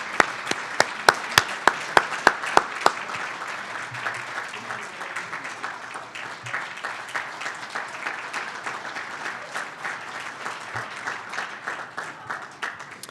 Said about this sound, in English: Let's give a warm round of applause, Queen and Marshal.